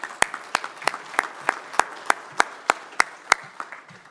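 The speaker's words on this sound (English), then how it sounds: "Let's give Glenn a round of applause in absentia." A sheriffs' fall conference audience applauds, with sparse, evenly spaced individual claps ringing out at a steady rhythm over a low murmur of other hands in a large room.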